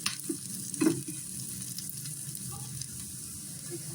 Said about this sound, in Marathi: खोबरं डाळ जे आहे ते दोन्ही तिन्ही आपण असंच त्यांना असं व्यवस्थित भाजून घेणार आहोत